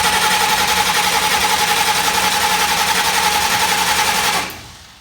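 The starter cranks the engine of a 1964 Comet race car in a fast, even, chattering whir for about four seconds, then it abruptly stops, leaving quiet.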